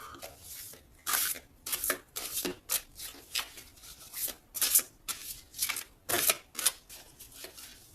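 Tarot cards being shuffled and cut by hand, a series of crisp, papery riffling bursts in an uneven rhythm, close and fairly quiet, with short pauses between handfuls and no talk.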